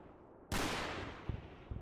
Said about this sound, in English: Am I taking rifle fire now?